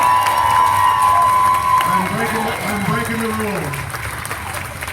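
An audience at a pun-off competition at the O. Henry Museum claps and cheers loudly and steadily, with a voice speaking over the crowd noise and the applause thinning toward the end.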